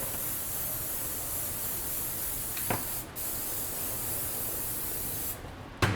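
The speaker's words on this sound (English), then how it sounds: "We're going to hit it with a little more pan spray." A steady, continuous hiss of cooking spray onto a sheet pan lasting several seconds, close and even.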